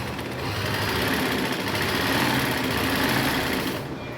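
A sewing machine running steadily after being threaded and cleaned, a continuous dense mechanical whir and rattle at even speed that stays loud and close throughout, then eases slightly at the very end.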